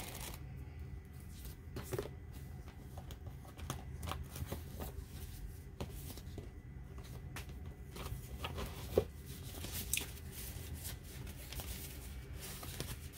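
Someone shuffles and sorts paper window envelopes in a craft studio. The handling makes a continuous close rustle of soft papery slides and light taps, with no talking.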